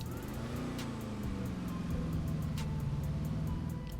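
A fully customized Bravado Gauntlet Hellfire muscle car in GTA Online idling and revving, a deep rumbling engine drone that rises and falls steadily at close range, with no talk over it.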